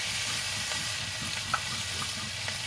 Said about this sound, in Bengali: একটু নেড়ে চেড়ে কষিয়ে নেব